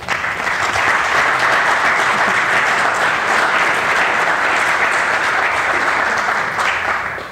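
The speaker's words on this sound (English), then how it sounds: "So I would just like to ask you to give them one more round of applause." At the MedCLIVAR 2018 conference in Belgrade, Serbia, a hall of attendees gives the organizers a loud, sustained round of applause that holds steady for about seven seconds before tapering off.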